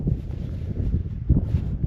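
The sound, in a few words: strong wind in Death Valley desert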